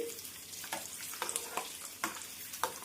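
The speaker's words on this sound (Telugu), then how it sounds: "ఇవన్నీ కూడా కొంచెం వేగనిద్దాం" Chana dal, cumin, dried red chilies and garlic cloves fry in oil for a mint and coriander pickle, a quiet crackling sizzle punctuated by a few distinct spatula taps and stirs, up close with no speech.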